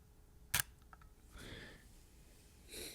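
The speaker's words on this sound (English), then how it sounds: "It actually has a mechanical shutter in it." A Nikon Zf mirrorless camera fires its mechanical shutter once, a sharp close-up click, followed by faint handling and rustling sounds in a quiet room.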